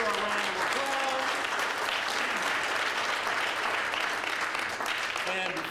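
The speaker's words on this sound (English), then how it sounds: "Give her a round of applause." An audience gives a round of applause for Kimberly Lynn at a panel event, dense sustained clapping filling the whole stretch with faint voices and cheers mixed in.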